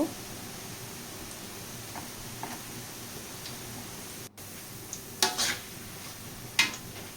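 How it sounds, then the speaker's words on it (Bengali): Boondi fry in hot oil in a home kitchen, a faint steady sizzling hiss with a few brief clinks of a ladle against the pan, no speech. "এইভাবে আমি সবগুলো বুন্দিয়া ভেজে নেব"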